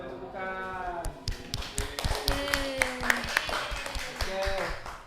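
A classroom bursts into scattered clapping, quick uneven claps and taps from students mixed with voices talking over them.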